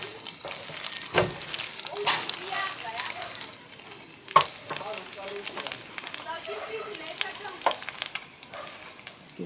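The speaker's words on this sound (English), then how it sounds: "Still my minced meat is still cooking there." Minced meat frying in a pan for a spinach dish, a steady sizzle with scrapes and stirring clatter, close by, while a person talks over it.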